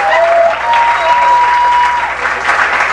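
Studio audience at a stand-up comedy show breaks into steady applause, a dense wash of clapping that holds loud and even for the full few seconds with no voice on top.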